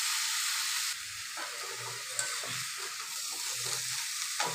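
Washed, drained soybeans sizzling in a pan with salt and turmeric, a loud steady frying hiss with soft stirring scrapes and bubbling underneath, no talking.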